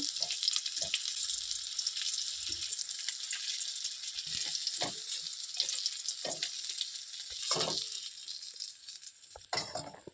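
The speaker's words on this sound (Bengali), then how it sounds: "এই মাছগুলোকে আমি একইভাবে ভেজে নিব" Continuous hiss of rohu fish pieces frying in hot oil, with a few soft bumps and scrapes from turning the pieces, no voices present.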